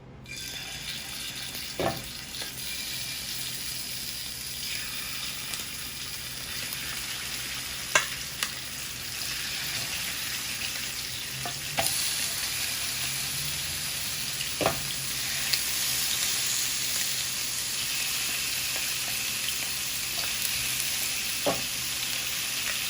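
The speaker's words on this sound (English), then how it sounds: "now we are going to brown the wings" Chicken wings brown in a hot oiled pan on a stovetop, a steady close sizzle and hiss with occasional sharp clicks and clatters from handling, running continuously with no speech.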